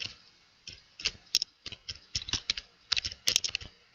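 Computer keyboard keys clack in quick, irregular bursts of close, crisp taps while code is typed, with short pauses between words and no talking.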